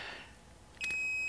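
A multimeter's steady high continuity beep starts abruptly and holds continuously to the end, preceded by a brief pair of clicks; quiet otherwise.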